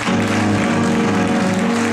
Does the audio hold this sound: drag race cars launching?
no